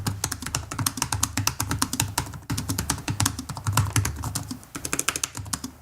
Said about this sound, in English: let's give a listen to how the keyboard sounds